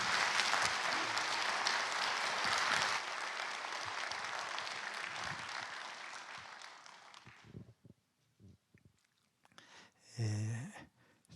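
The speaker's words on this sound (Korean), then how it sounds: "우리 김영석 교수님 모실 때 박수로 함께 축복하도록 하겠습니다" Dense, sustained applause from a lecture audience welcoming Professor Kim to a special commemorative talk, loud and steady for several seconds before thinning into a few scattered claps, then a brief burst of sound near the end.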